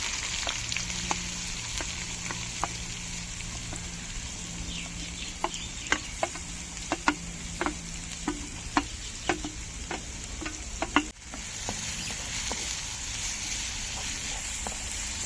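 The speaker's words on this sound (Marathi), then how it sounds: "आता कांदा टाकून घेऊया." Chopped onion goes into hot oil already sizzling with cumin and curry leaves, a steady close fry with bursts of spatula scraping and a few sharp clinks, the sizzle carrying on alone at the end.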